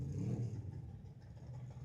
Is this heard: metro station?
no